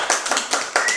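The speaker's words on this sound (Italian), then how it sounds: "Un applauso alla signora Rosa." Brief applause for a woman on a radio-style prank phone call, a short burst of scattered clapping over about a second, close and fairly loud.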